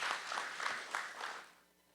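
An audience claps for award recipients at an alumni awards ceremony, a brief round of moderate applause that fades out within two seconds.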